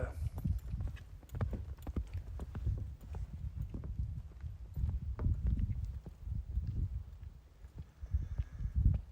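Hooves clip-clop steadily as a large horse moves about close by, with soft wind and brush rustling in the background.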